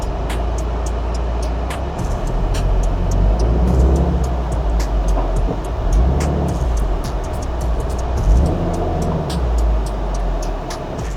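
A car is driven slowly onto an alignment rack, its engine idling low and steady under a continuous rumble, with faint clanks and brief squeaks close by and no talking.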